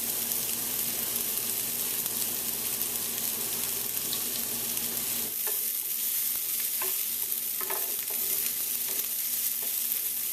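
Potatoes and onions roast in a pan with a continuous bright sizzle, a spatula scraping and stirring now and then in the second half, no talking.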